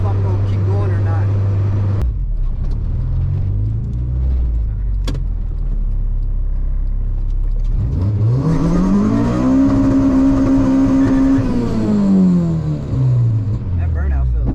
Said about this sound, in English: That burnout felt good.